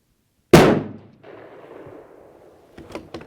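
A single sharp rifle shot from a rifle fitted with an Apex Optics Rival 4-32x56 scope, loud and close, trailing into a long echoing decay, followed by a few faint clicks.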